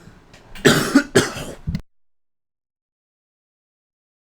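A short burst of harsh, hacking coughs, three or four in quick succession, close and loud, followed by silence.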